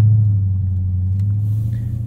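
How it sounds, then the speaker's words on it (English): A 2016 Dodge Challenger SRT 392 with its V8 exhaust burbling in a steady, deep, loud rumble at low revs, heard up close with no talk. "This is just a really nice exhaust sound."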